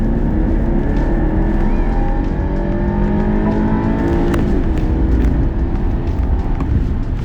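A 2021 BMW 6 Series GT in sport mode, dropped two gears, pulls hard with a loud, continuous engine drone that climbs in pitch as it accelerates, heard from inside the cabin with no talking.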